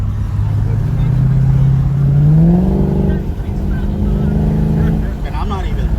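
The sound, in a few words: car engine accelerating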